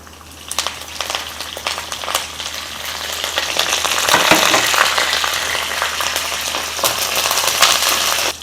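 Garlic and curry leaves hit hot oil and crackle and spit loudly, the sizzle swelling into a dense, steady hiss close by.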